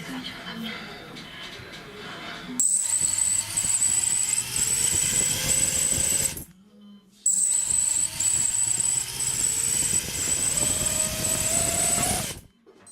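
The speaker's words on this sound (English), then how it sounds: "the motor's trying to spin, but it's not spinning up fully" A broken drone motor strains to spin up but never reaches full speed, a high whining buzz running steadily for several seconds, cutting out briefly, then resuming close by, with no one talking over it.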